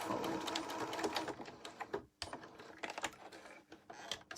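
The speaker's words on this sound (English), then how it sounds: "So we now have our second layer of stitching." Sewing machine stitching a double-fold hem on pillow fabric, running in a continuous whirring burst that stops briefly and then resumes in short, uneven runs, close and fairly quiet with no talk.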